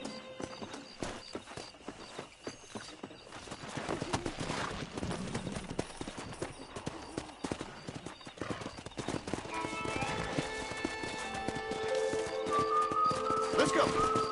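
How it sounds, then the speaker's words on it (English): Horses gallop in the Red Dead Redemption video game, with rhythmic hoofbeats and an occasional whinny mixed with game music and characters talking over them. "let's see if we can't wrangle some horses"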